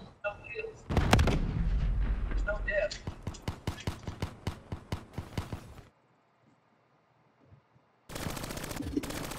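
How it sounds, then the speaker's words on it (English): Rapid gunfire from a first-person shooter video game, a dense burst of loud shots followed by a steady run of evenly spaced single rounds, a short silence, then more firing at the end. "I killed somebody and took his gun."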